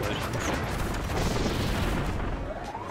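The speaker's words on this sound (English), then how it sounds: "Do you like my explodey fireworks?" Kirby's bomb ability going off like fireworks in the video game Kirby's Return to Dream Land, a dense, continuous crackling barrage of bursts and booms that stays loud for the whole stretch.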